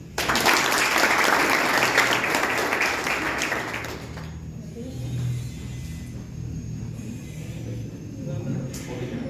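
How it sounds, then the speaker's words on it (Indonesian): An audience applauds as a newly introduced director stands up at a gathering: loud, dense clapping for about four seconds that then drops away, leaving low room rumble and murmuring voices. "Tepuk tangan dulu lah."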